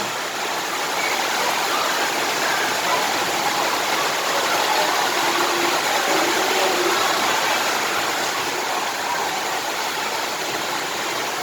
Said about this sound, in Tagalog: Grabe, malakas ang hangin.